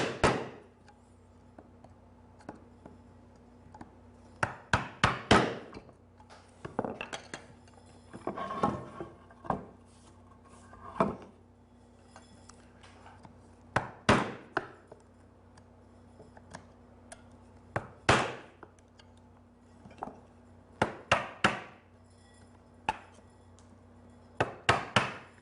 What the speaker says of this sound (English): how narrow of a chisel can you fit in to cut the tails